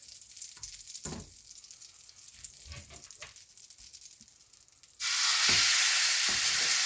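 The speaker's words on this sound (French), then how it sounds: "Parce qu'on veut entendre un très beau bruit quand on le dépose dedans." Pork tenderloin hits a hot pan partway through, bursting into a loud, steady sizzle that continues to the end after quieter kitchen clatter and faint frying.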